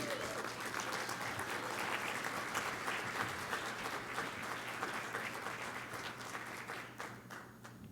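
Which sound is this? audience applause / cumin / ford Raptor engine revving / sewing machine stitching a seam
audience applause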